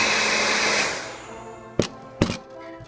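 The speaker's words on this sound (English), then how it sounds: "I'm gonna go ahead and turn on the heat dryer" A hair dryer blows heat onto an iPhone 4S speaker, a loud steady whoosh that fades after about a second, followed by two sharp handling knocks.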